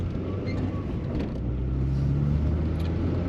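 A Rover 100 Metro small hatchback with no power steering drives along, its engine a low, steady hum with road rumble heard from inside the cabin, with no talking.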